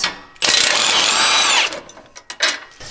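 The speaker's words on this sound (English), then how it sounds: "we're gonna take off the sway bar link." A power tool spins an 18 mm socket to remove a sway bar link on a Jeep JL Wrangler during a lift kit install: one loud whirring burst of just over a second, then a few light metallic clicks.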